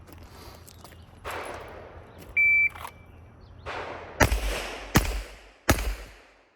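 Three sharp, loud pistol shots on a shooting range, fired in quick succession about 0.7 seconds apart in a timed string, each with a short echoing decay. An electronic timer beep sounds before them.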